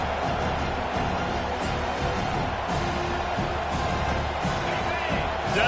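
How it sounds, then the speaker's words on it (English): Football stadium crowd roaring loud and steady as the home fans get behind the defense on a third down, a dense wash of cheering that holds throughout with faint announcer-like talk beneath. "Decibels rising as the crowd gets behind this defense on third down."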